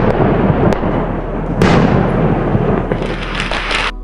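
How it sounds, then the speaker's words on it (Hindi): Diwali night fireworks in Indonesia boom and crackle continuously, with dense overlapping bursts and a sharp bang midway, loud and close, ending in a bright hissing crackle. "दीपावली की रात यहाँ के लोग जमकर आतिशबाजी करते हैं"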